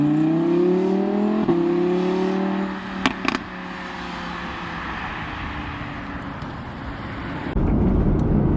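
An Audi R8 V10 Plus with a Lamborghini-derived 5.2 V10 running on the road, its engine note rising smoothly through the revs, then easing to a cruising hum before swelling louder again near the end.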